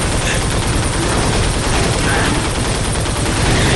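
Gunfire in the video game Darkwatch: a loud, dense, continuous barrage of rapid shots roars without pause for the whole stretch, harsh and saturated, with no gaps between bursts.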